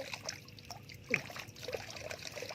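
Water trickles steadily while dwarf Oroxylum (Indian trumpet tree) plant roots are rinsed, a soft, close, continuous dribble with a few brief splashes and no talking.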